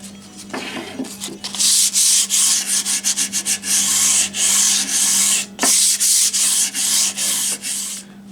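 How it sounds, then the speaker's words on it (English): Sandpaper rubs back and forth against wood in quick, rhythmic strokes, close and fairly loud, over a faint steady hum. "let's just break the edges with some hand sanding"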